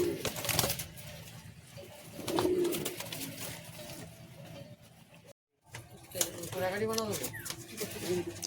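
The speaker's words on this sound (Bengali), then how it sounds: "এই চটিয়াল পায়রা" Chotial pigeons in a loft coo and call softly in short bursts, with a noisy, busy background and a brief dropout partway through; people talk intermittently nearby.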